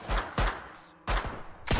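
Gunfire in the Autopsy Simulator video game: three or four loud, close shots fire in quick, uneven succession with a short gap between the pairs, standing alone with no talk.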